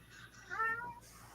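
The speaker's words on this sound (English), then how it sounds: "Oh, I just heard a meow." A house cat gives a single short meow at close range, rising and falling over about half a second against a quiet indoor background, with no talking over it.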